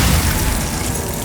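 A Glacius ice spell cast in Hogwarts Legacy lands as a loud, dense burst with a booming low rumble, sustained at steady strength for its short length with no talk.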